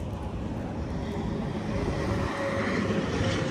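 Steady highway traffic roar outside a 15-foot single-axle 2023 Grand Design Imagine AIM 15BH travel trailer, a continuous broadband rumble that swells slightly toward the end, with no talking.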